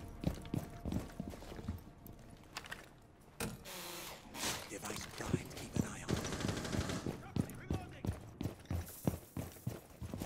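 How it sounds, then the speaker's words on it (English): Heavy machine gun fire in Rainbow Six Siege, sounding as close, sharp bursts of rapid shots broken by short gaps, over game sounds and background speech. "Picking up a corner position with my heavy machine gun"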